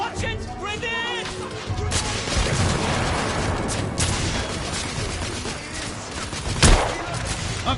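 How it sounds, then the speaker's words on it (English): Grenade blast and heavy gunfire in The Order 1886, a dense barrage of shots and impacts with a loud explosion late in the clip, shouted voices mixed in at the start. "Watch it! Grenade!"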